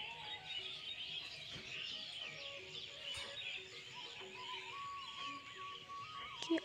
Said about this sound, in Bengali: আপনারা পাখির কলরব শুনতে